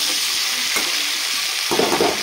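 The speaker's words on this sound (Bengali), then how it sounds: "তো নাড়িয়ে চাড়িয়ে নিব সব সবজিগুলো" Mixed vegetables including eggplant, potato, tomato and drumstick stems frying in a pan, a dense close sizzle with a couple of stirring scrapes.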